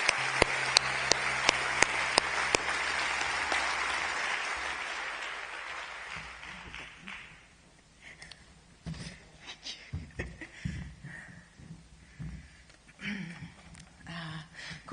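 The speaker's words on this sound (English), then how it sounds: "Let's have another round of applause," Audience applause at the New Zealand book awards ceremony, a dense clapping wash with sharp individual claps in front for about seven seconds that then dies away into quieter rustling and scattered sounds.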